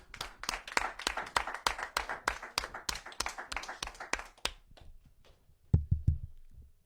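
A small audience at a Christmas show claps for several seconds in a quick, fairly even rhythm that thins out and stops, followed by a few handling thumps at a microphone.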